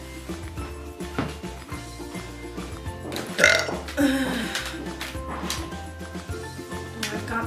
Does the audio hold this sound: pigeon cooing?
no